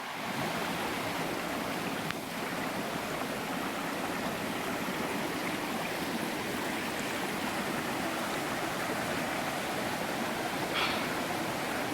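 North Harper Creek flows over slanted rocks beside a trail in Pisgah National Forest, North Carolina, a steady, close, full rush of water that stays unbroken throughout.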